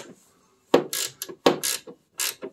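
A ratchet wrench tightens the rear shock absorber bolts on a Triumph Spitfire, giving three quick bursts of sharp clicking strokes close up with silent pauses between them.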